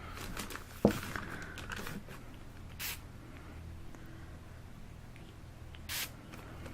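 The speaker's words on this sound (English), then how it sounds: "That's all I'm going to do, just 2 quick spritzes" Two short, breathy spritzes from a spray bottle, separated by a few seconds, over soft rustling and a quiet background.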